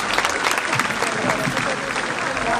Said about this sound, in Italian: Un applauso a Gino Maschio!